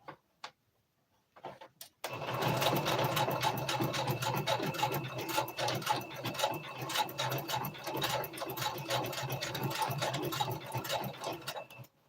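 Sewing machine stitching fabric for a twist turban hat, starting after a few faint clicks and then running steadily with a fast, even mechanical chatter, close and continuous for about ten seconds.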